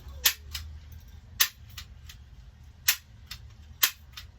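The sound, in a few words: staple gun stapling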